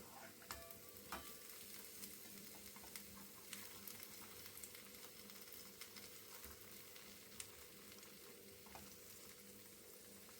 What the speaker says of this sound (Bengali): আমি উল্টে পাল্টে খুব ভালো করে ভেজে নেব এগুলোকে